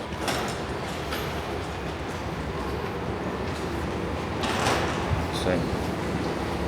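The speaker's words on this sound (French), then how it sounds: "on est dans le métro" Steady rumbling roar of a Tokyo metro carriage in motion, constant wheel and track noise filling the space, with a few faint clunks and rattles.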